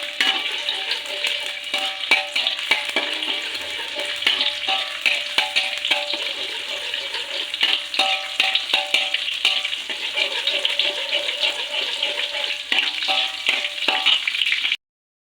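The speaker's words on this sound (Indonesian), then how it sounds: "Seperti biasa kita oseng-oseng ya teman-teman." Garlic stir-fried in hot oil for a vegetable rice-vermicelli dish, a loud continuous sizzle with constant spatula scraping and clatter throughout, stopping abruptly at the end.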